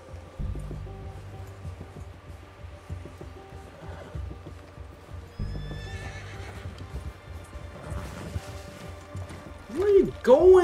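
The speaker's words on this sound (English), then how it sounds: "Ride the goddamn horse." Horse hoofbeats thud in a repeating galloping pattern in the video game Red Dead Redemption 2, mixed with a whinny, mechanical clicks and people talking.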